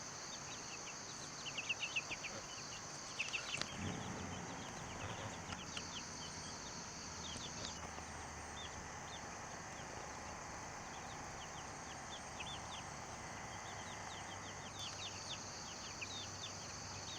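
Baby chicks cluck and peep softly throughout, with faint pecking taps and a few brief louder bursts near the start, against a steady background hiss.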